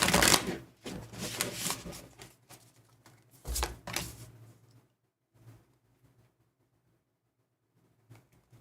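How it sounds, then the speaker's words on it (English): Tarot cards are riffled and shuffled in two quick bursts, crisp and close, then fade into quiet handling. "One more shuffle here."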